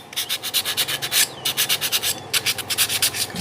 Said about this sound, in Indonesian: bisa kita amplas dikit